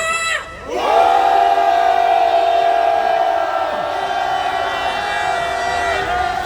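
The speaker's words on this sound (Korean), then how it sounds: "홍대를 뒤집어 엎을 함성을 한번 질러보겠습니다" A large crowd at a candlelight protest rally in Hongdae lets out a loud, sustained collective roar, rising sharply after a short pause and holding steady with some echo for several seconds.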